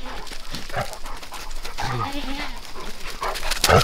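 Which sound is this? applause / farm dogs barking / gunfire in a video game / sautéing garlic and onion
farm dogs barking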